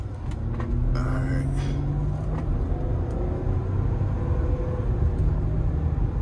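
A 2021 Chevy Camaro SS is driven slowly at an auto auction, its engine rumbling low and steady as it shifts, close by with a faint voice mixed in.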